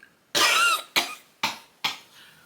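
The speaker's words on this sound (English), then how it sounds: "we coughing again." A person coughs at night in bed while ill on a Cancun vacation: one long, harsh cough followed by three shorter coughs in steady succession, close and clear, with no talk.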